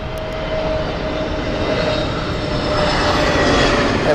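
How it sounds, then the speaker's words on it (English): A British Airways Airbus A320 on an inbound flight into Heathrow Airport roars steadily overhead, a loud, close, continuous jet engine rush that builds slightly toward the end. "inbound next is the Nice flight with British Airways."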